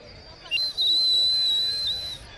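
A Xiulitech whistle blown at the Xiulitets procession in Alcoy, Spain: one sustained, shrill, steady tone of about a second and a half, close and fairly loud, over faint outdoor crowd murmur.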